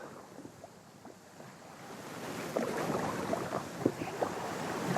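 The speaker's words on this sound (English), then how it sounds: "Wind's picking up." Wind and lapping waves around a wooden canoe paddled on the Norfolk Broads in changeable showery weather, a steady rushing wash that swells louder midway with small splashes and knocks close by.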